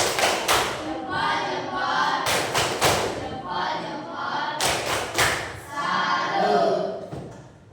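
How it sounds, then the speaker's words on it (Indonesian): A classroom of pupils performs a rhythmic group salute clap, loud bursts of unison claps and thumps separated by chanted voices, repeating in a patterned cycle close by. "Tepuk salut."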